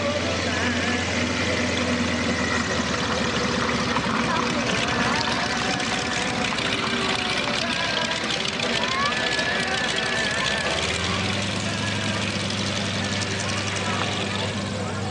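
Yak-55M aerobatic aircraft's engine during an aerobatic show, a loud, steady, unbroken roar filling the whole stretch with a dense broadband drone.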